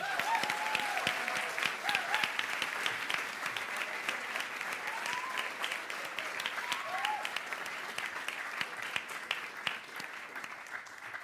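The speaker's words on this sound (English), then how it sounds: "Can we give them a big round of applause?" An audience at a live carol service applauds the choir, a broad, sustained round of clapping that fills the room and slowly thins toward the end, with a few faint voices mixed in.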